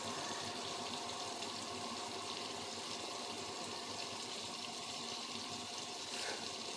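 Hot water runs steadily from a domestic hot tap fed by a Baxi boiler after a faulty diverter cartridge repair, a close, constant rushing hiss that holds without a break and with no one talking.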